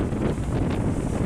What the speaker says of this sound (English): Sorry if it's windy as anything